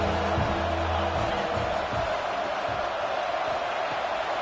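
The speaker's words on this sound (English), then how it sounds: "Decibels rising as the crowd gets behind this defense on 3rd down." Stadium crowd roaring on a third-down defensive stand in a college football video game, Alabama Crimson Tide against Mizzou, a broad steady wash of cheering that holds loud throughout, with some low tonal sound early on.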